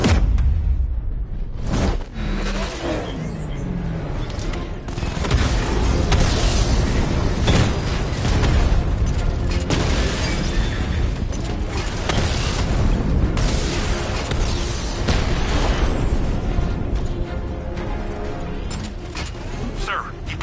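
Heavy tank cannon blasts and booming explosions roll on continuously in the video game Batman: Arkham Knight, with whooshes and rumbling impacts in a loud, dense battle soundscape.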